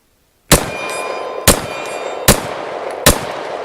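Airsoft pistol fitted with a CAA MCK micro conversion kit sending BBs into plastic 2-liter bottle targets: four crisp, loud plastic smacks roughly a second apart, each ringing briefly, with nothing else heard between them.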